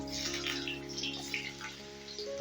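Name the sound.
pumpkin pieces added to hot white oil, frying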